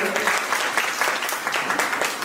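Loud applause from an audience at a reality show in Purulia, dense rapid clapping filling the whole stretch with no pauses, close and bright.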